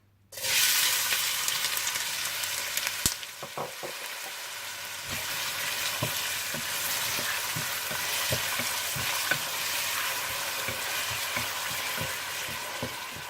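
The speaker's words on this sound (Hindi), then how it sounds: "और इसमें प्याज डालकर हल्के गोल्डन ब्राउन कर लीजिए।" Onions fry in hot oil in a pan, a steady close hiss of sizzling broken by occasional sharp pops and stirring clicks, with no voices.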